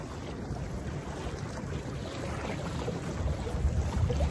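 Water sloshing and splashing around a pedal-drive canoe as it rides the waves of a boat wake, with steady wind noise across the microphone, building slightly louder toward the end, no talking.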